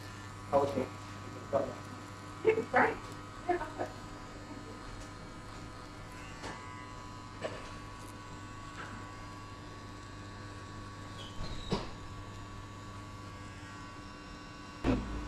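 Electric hair clippers buzz steadily while cutting a burst fade, taking a zero guard through the mid area and back of the head, with a few louder clicks and handling knocks over a constant low hum.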